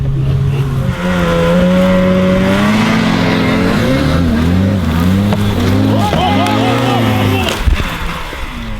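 A sport motorcycle converted into a snow bike with a cheap sled under it revs its engine loudly and continuously, pitch rising and falling through several throttle surges, with voices talking over it.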